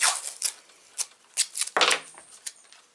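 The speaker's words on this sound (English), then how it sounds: "I will stick a piece of tape here" A piece of tape is pulled and pressed onto a shirt: quick crinkly rips and rustling bursts, close and fairly loud, with a longer tearing sound midway and short fabric rubs between.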